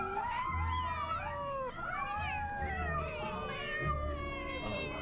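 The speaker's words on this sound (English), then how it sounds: "Just sent like a bunch of cats onto their computer." Several cats meow and yowl repeatedly in overlapping, wavering cries, loud and close, with no talk over them.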